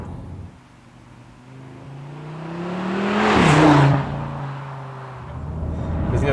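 An Audi RS Q3 fitted with a particulate filter and a valve-controlled aftermarket exhaust, held between 2000 and 3000 rpm, gives a deep, bassy drone that swells to a louder peak partway through and then settles back, heard from inside the car.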